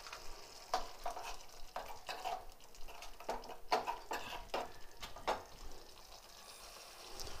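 Chutney seasoned with black salt is stirred in a bowl close by, making a series of soft, wet scraping strokes in an uneven rhythm over a quiet background. No one is talking.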